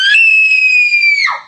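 A girl screams loud and sustained after waking up hanging upside down from the ceiling, one long high shriek that holds steady for over a second before breaking off.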